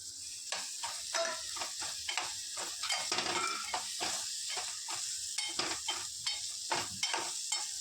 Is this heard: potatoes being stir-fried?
yes